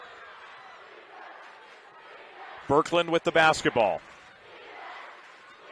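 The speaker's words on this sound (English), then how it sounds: "This Richfield crowd making a lot of noise" At a 2023 3A girls basketball semifinal between Morgan and Richfield, the Richfield crowd keeps up a steady wash of noise. A commentator speaks over it briefly.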